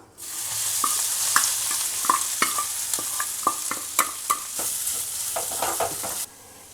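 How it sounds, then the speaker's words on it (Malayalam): Kanthari chillies and grated coconut fry in a pan with a steady, loud sizzle, broken by regular scraping strokes of a spatula stirring them, and no voices. "അപ്പോൾ നമുക്ക് നമ്മുടെ കാന്താരി മുളകും തേങ്ങയും ഒന്നും മൊരിച്ചെടുക്കാം."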